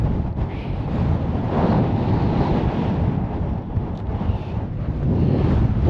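Strong wind roars steadily across the open summit of Little Hart Crag in the fells, buffeting the microphone in a continuous broadband rush that swells and eases slightly but never lets up.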